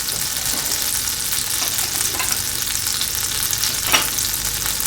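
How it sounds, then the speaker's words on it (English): Butter melts in a hot frying pan while making strawberry Nutella French toast rollups, giving a steady, close, crackling sizzle that holds at an even level throughout with a brief louder spit near the end; no talking. "let's get our butter in the pan melting. We're going to let that stop sizzling."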